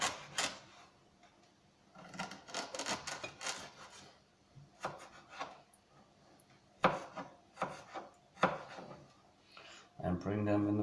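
A knife cuts vegetables finely for a carrot, ginger and coconut soup, producing bursts of rapid, close wooden taps on a cutting board separated by pauses, with a person talking in between.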